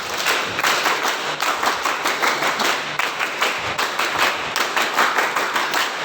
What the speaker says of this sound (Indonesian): 2 kali tepuk pramuka.